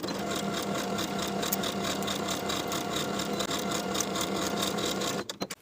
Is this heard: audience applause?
no